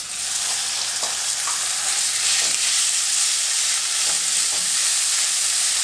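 Ground meat sizzling in a couple of tablespoons of oil in a skillet, a steady bright frying hiss with a few faint scrapes and stirs, close and continuous with no talking.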